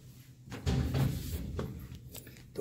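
An indoor house door is handled at night, giving a few dull thumps and a soft rattle over quiet room tone, with no talking.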